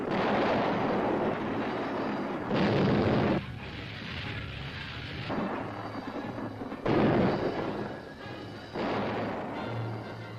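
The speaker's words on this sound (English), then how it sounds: "Open fire." Ship guns firing in a 1948 war drama, heavy booming blasts arriving in several bursts with rumbling roar between them, loud and dense, no talk over them.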